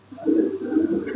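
Pakistani teddy pigeons coo in a low, throaty, rolling murmur that swells and holds steady for about a second, close and moderately loud, with no talk.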